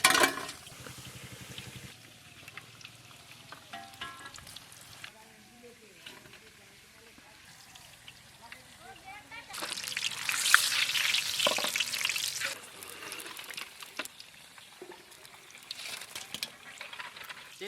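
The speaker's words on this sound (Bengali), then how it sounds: "ফুলকপির পকোড়া ভাজবো" Cauliflower pakoras fry in hot oil, a soft crackling sizzle that swells into a loud bright hiss midway as more batter drops in, with people talking throughout.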